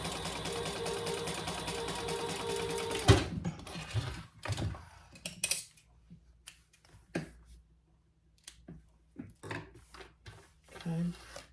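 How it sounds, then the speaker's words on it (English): Sewing machine stitching down the sides of a sling bag, right sides together: a steady continuous run of stitching for about three seconds, then stops, followed by scattered handling clicks and knocks. "we're going to sew down the sides only"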